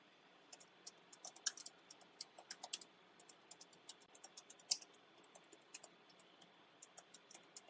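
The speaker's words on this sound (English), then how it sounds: "So I'm just going to type in a prompt" Quiet, fast typing on a computer keyboard, a steady run of light clicking keystrokes with a few louder taps, close and alone without talk.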